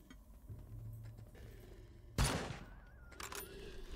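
Gunshots from the survival video game Dysmantle: a sharp burst near the middle, then a couple of weaker reports, over steady game background noise.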